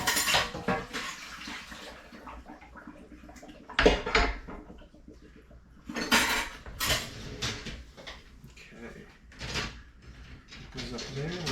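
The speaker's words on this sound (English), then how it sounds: "I'm doing the dishes, Taco." Dishes, pots and cutlery clink and clatter in intermittent bursts during dishwashing at a kitchen sink, with running water and a person talking over it.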